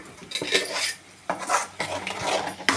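A spoon scrapes and clinks against a metal pot or plate while salt is mixed into cooked rice for garlic rice, with several bursts of stirring and scraping close up and no voices.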